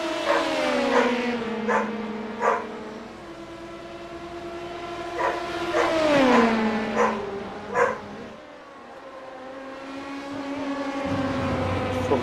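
A very vocal pet dog barks repeatedly in short bursts, a few in quick clusters, over a continuous racing-car engine drone that rises and falls.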